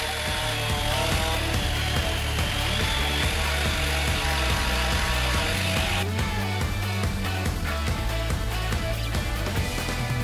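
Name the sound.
Bosch electric sander sanding wood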